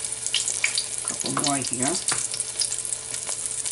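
Eggplant slices frying in olive oil in a pan, a continuous close hiss and crackle, while a voice speaks briefly over it.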